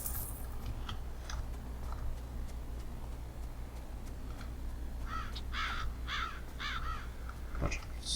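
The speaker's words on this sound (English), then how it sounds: "Bunch of stupid crows." Crows cawing in the video game Betrayer, a cluster of several harsh caws in quick succession toward the end over a steady low ambient hum, with faint clicks earlier.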